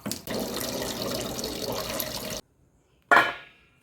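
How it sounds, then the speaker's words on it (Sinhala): Water drained from cooked macaroni pours steadily in a continuous rush for a couple of seconds, stops, then a shorter splashy pour follows after a brief silence. "දැන් අපි මේ වතුර ටිකත් පෙරලා ගමු."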